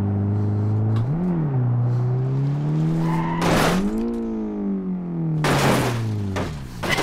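A car in BeamNG Drive is pushed hard, its engine droning and rising in pitch through shifts, with two sharp bursts of tire squeal or impact noise cutting in partway through.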